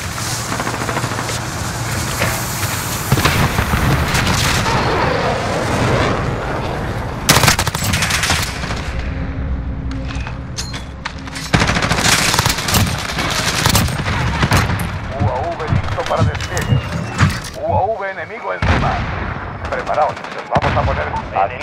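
Rapid bursts of M4 rifle fire and other gunshots crack out in Call of Duty Modern Warfare on a new map, loud and near, with pauses and brief in-game voice callouts between volleys.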